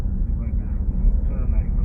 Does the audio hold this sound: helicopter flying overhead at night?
yes